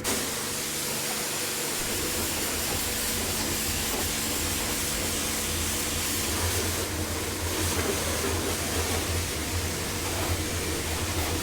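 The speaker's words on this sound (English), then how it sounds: "I'll just run around the tractor with the pressure washer because it's could do with the clean." A pressure washer sprays a John Deere 6155R tractor, making a steady, loud broadband hiss that runs without a break over a low rumble, with a slight shift in tone partway through.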